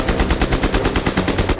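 An MP-44 assault rifle fires on full automatic, a loud, close burst of rapid, evenly spaced shots that continues without a break.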